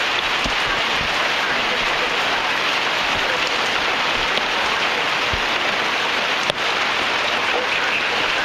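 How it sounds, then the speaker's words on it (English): Heavy thunderstorm rain in Tacoma, Washington pours onto and bounces off a roof, a dense steady roar of drops, loud and close, with a few sharper knocks. "that's bouncing off of the roof. The rain is blowing right at me now"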